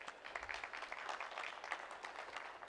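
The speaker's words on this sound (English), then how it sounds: "A huge round of applause for him." Audience applause at a Theme Pavilion session of a business forum, a steady wash of many hands clapping, fairly faint and distant throughout.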